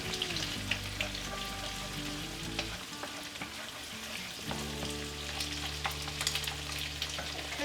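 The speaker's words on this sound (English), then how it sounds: "we're just gonna scramble up and deep fry these yummy eggs in that oil" Eggs scrambled and deep-fried in hot oil for pork fried rice, a continuous crackling sizzle with a steady low hum and scattered pops and stirring scrapes, close up.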